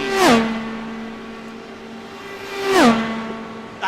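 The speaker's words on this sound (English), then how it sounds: "I love the sound of those cars as they fly by at speeds of 220 plus miles an hour" Two Dallara IR18 IndyCars roar past at speed in the iRacing video game, each a loud, high engine whine that drops sharply in pitch as it passes close by, with a gap of about two seconds between them.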